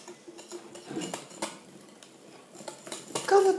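Fromage blanc cheesecake batter with egg and sugar mixed in a bowl, a whisk or utensil tapping and scraping in quick uneven strokes, close and moderately quiet.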